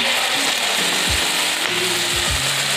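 Fish eggs go into hot oil with cumin, giving a loud, continuous crackling sizzle with a few low thuds from the pan, close up and without talk.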